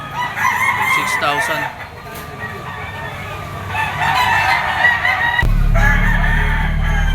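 Yellow-legged gamecock stags at a Lipa auction market crow repeatedly with clucking and other fowl calls around them, while someone talks over the birds and a steady low hum rises near the end.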